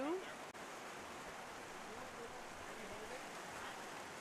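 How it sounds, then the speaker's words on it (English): Steady rain pours down over an outdoor show jumping arena, a dense, even hiss that fills the whole clip at moderate level with no talk over it. "if you didn't hear the rain before, you can probably hear it now. It is really coming down."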